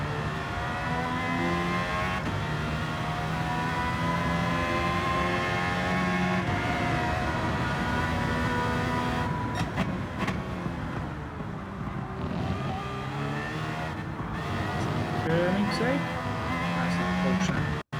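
A Porsche GT1 Strassen road car in Gran Turismo 7 drones with a sustained engine tone that rises and falls through gear changes, under ongoing game sounds.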